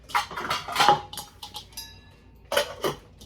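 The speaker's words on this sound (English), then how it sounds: "what I'm going to do is I'm going to get a lid" A pot lid is picked up and handled near a sauerkraut pot in a home kitchen, giving several close metallic clanks and clinks in short bursts with quiet gaps between.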